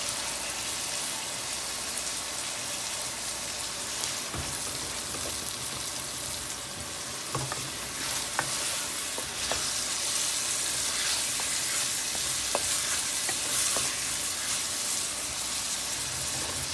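Rice and vegetables seasoned with dry thyme fry in a pan, a steady close sizzle with occasional scraping and tapping clicks of stirring throughout, no voices.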